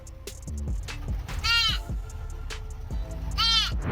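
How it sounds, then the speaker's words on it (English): A baby deer on a farm gives two short, high, wavering bleats while seeking food. Its calls stand out over low rumbling and shuffling noise nearby, and no one speaks. "this baby deer, it makes the most adorable hungry noise as it seeks food."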